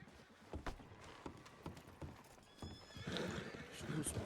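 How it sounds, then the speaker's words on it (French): Horses in a video game whinny and neigh restlessly amid clip-clopping hooves and stamping, the agitated sounds growing louder and busier toward the end. "Les chevaux sont bien agités."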